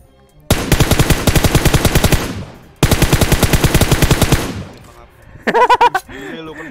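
Rapid automatic gunfire in PUBG Mobile comes in two loud, sustained bursts of evenly spaced shots, followed by a short voice exclamation.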